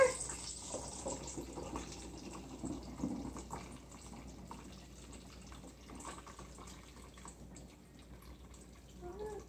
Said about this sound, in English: Carefully pour it into the funnel, into the jar.